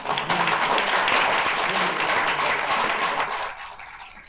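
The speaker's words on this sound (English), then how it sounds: "And also a big applause to our moderator." A conference audience in Geneva applauds the moderator with sustained, even clapping that thins out and fades near the end.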